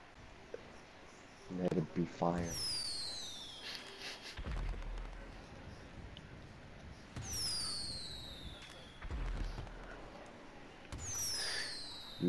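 Fireworks in the GTA game launch with whistling rising streaks and burst with crackling pops in a few separate volleys, under a loud background of chatter and game noise.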